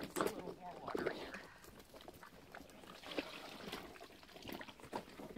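On a homestead, water trickles and pours onto pig feed mash in soft, uneven dribbles. The sound is faint and close, with quiet talk and shuffling around it.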